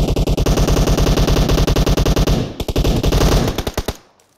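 Rapid automatic gunfire from UMP and AKM rifles in the PUBG battle royale game, loud and close, in long continuous bursts with a short pause before a final string of shots that ends abruptly.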